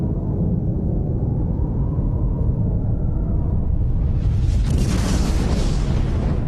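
A nuclear bomb explosion rendered as a deep, sustained rumbling boom that swells with a rushing roar midway, loud and continuous with no voices.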